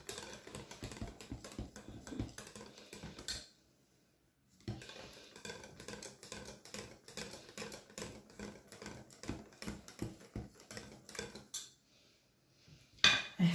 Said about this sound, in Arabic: الصفار كنطربو مزيان باش ما يبقاش لنا دوك الحديدات